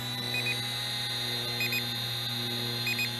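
A Holy Stone HS120D GPS drone remote gives short paired electronic beeps, repeating three times at steady intervals over a constant background hum.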